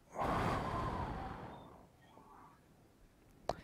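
A single deep breath is drawn in close to the microphone, an airy inhale lasting over a second before trailing into quiet, with a small click near the end.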